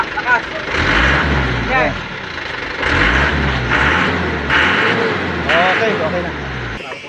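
A pickup truck engine revs up close in bursts, rising and falling under loud, steady running, while several people talk over it throughout.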